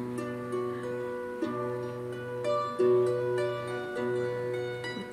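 A handmade Ukrainian instrument built entirely from matchsticks plays sustained, reedy harmonic tones like a small accordion, steady chords with brief breaks and a few soft clicks, close and moderately loud.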